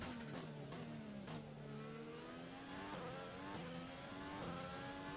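A Formula 1 car engine in the racing game F1 2020 screams loudly and steadily through the whole stretch, rising in pitch through the gears with brief dips at each shift.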